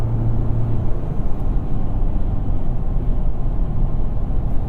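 Steady, loud broadband rumble of all-terrain tires on a 2023 GMC Canyon pickup at highway speed, a continuous low-pitched road roar with engine drone beneath it and no talking.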